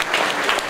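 A short burst of dense audience clapping greets an anti-nuclear speech, loud and continuous for under a second.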